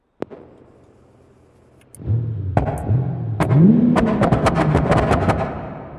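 A car with a 3.2 litre engine swap in BeamNG.drive catches and idles, then revs repeatedly in rising bursts with sharp exhaust pops crackling on top, loud and close.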